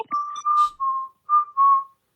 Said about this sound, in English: Upon having heard this whistling